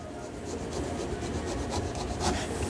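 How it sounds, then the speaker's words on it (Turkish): Thin strips of orange rind are pared from the fruit with a steady, close rasping scrape, repeated short rubbing strokes running evenly throughout with no talk. "Şöyle olabildiğince dıştan ince bir şekilde kabuğunu alıyorum."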